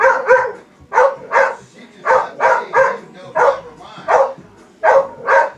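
A dog indoors barks repeatedly at close range, with roughly a dozen loud barks in pairs and short bursts at a fairly steady, insistent rhythm.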